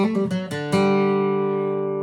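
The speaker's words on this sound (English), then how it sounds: "what we've got there is a hammer-on and a pull-off" A quick run of plucked guitar notes from a riff, a few rapid hammer-on and pull-off notes flowing together, ending on a sustained ringing chord that slowly fades.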